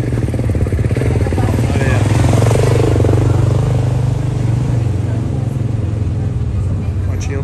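A customized motorcycle with titanium foot pegs, parked at a two-wheel festival at Interlagos, gives off a steady engine drone running the whole time under lively crowd noise and nearby talk.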